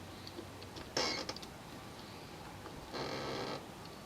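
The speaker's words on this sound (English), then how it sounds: "I can hear my relay, so I know it's the horn." A relay in the steering column of a 1970s GM vehicle clicks quietly in two brief bursts about two seconds apart, close to the microphone in a quiet space.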